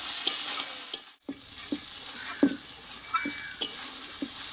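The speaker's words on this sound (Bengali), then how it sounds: "মশলাটা কিন্তু আমি ভালোভাবে একটু কষিয়ে নেব এতে কাঁচা গন্ধাটা চলে যায়" Ground spice paste for Bengali mutton being stir-fried in a pan, a soft sizzle under repeated scraping and tapping strokes of a spoon, close by, with a short silent gap early on.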